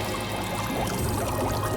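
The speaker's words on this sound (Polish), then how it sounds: "Przejeżdża przez stację z czystą wodą i silnym mydłem." Clean water sprays steadily at a washing station with strong soap in a cartoon garbage-recycling machine, a continuous close hissing wash with no talk over it.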